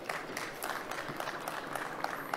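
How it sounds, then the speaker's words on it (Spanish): Faint, dense audience applause fills a hall at the Expo ANTAD 2024 trade show, a soft continuous patter of many hands with no voices over it. "Un fuerte aplauso,"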